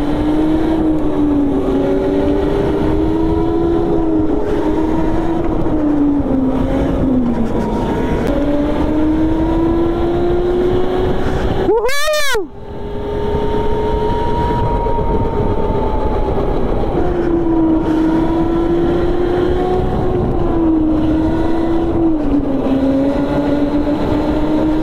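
Go-karts run on an indoor track at an Entertainmentland mall in Gurgaon, their small engines droning loud and steady throughout with rising and falling pitch, plus one brief whooshing pass-by near the middle.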